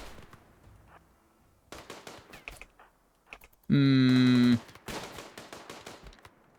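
Rapid bursts of video game gunfire and clicky impacts from a RimWorld colony attacking insect hives, with a sustained loud tonal blast in the middle, among scattered sharp pops.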